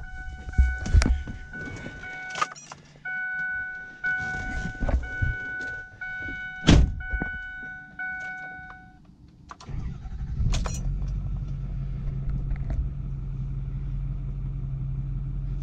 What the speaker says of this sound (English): We're gonna go over and fire the truck up for the first time.